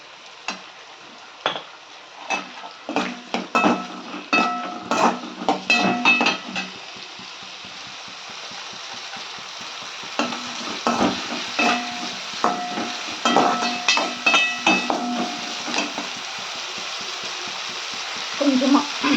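Tomatoes are sautéed with onion and pepper in a pan, with soft sizzling and bursts of spoon scraping and stirring against the pan, coming and going in short rhythmic clusters.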